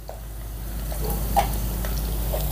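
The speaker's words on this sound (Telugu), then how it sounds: "ఈ అల్లం వెల్లుల్లి పేస్ట్ని పచ్చివాసన పోయేంత వరకు ఫ్రై చేసుకుందాం" Ginger garlic paste frying in a pan after onions, a steady close sizzle with a few soft clicks and stirring scrapes throughout, no talking.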